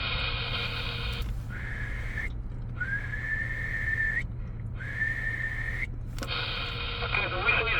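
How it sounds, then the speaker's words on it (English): A person whistles over a CB radio link, heard as three thin, steady tones of about a second each, separated by gaps, over a constant hiss and hum of radio static. "the whistle is very weak"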